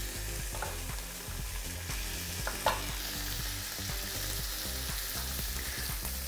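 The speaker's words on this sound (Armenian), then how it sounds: "Արդեն մեր սխտորը սկսավ տապակվելու, կարող ենք միսը ավելացնել եւ այսպես ավելացնում ենք։" Garlic and meat sizzle steadily in a frying pan, a loud continuous crackling fry with occasional stirring scrapes, close up and without talk.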